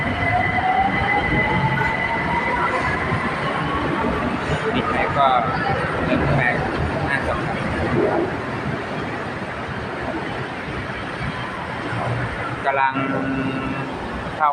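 A BTS Skytrain Silom line train pulls out of Saphan Taksin station with a sustained rolling rumble, rising motor whine and faint wheel squeal. Someone speaks over it.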